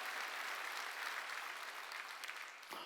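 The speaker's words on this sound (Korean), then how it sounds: "박수로 하나님께 영광을 돌렸어요" Congregation clapping during a Korean church Sunday worship service, a full, continuous round of applause from the hall that stays strong and even, thinning slightly with a brief shift near the end.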